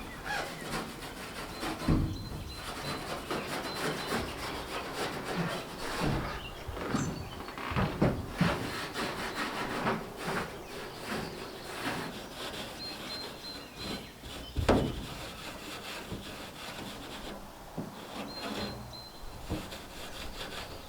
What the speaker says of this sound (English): Now the edges are prepped with this. I think it's a Scotch pad or something like that.